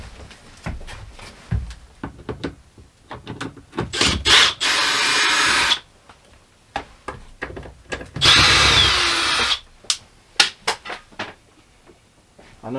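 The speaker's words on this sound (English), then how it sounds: "Good thing it's a magnetic driver, so the screws will stick to it" Cordless magnetic driver spinning out screws from a plastic fan cover on an air-conditioning unit, two loud sustained whirring runs and shorter bursts, close up with handling clatter between.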